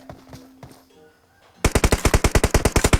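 Rapid automatic gunfire from the mobile shooter PUBG Mobile, a dense burst of about fourteen punchy shots in quick succession that follows a quieter stretch of softer game sounds and a brief tone.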